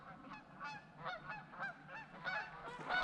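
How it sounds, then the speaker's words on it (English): Several geese honk repeatedly as they fly overhead at a winter truck campsite during a snowstorm, their calls fairly close and overlapping in an irregular series against steady outdoor background noise. "there's some geese flying over"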